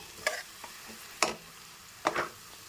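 Leafy greens being fried and mixed in a pan, three short scraping stirs over a faint background sizzle, close and moderately loud.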